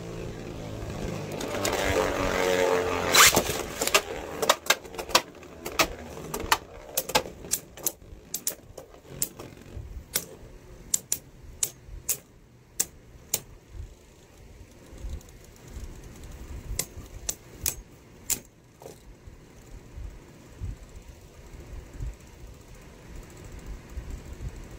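Beyblade Burst tops World Spriggan, in left-spin attack mode, and Diabolos clash in a stadium: a burst of scraping and spinning, then a long run of sharp, irregular metallic clicks and hits, close and crisp.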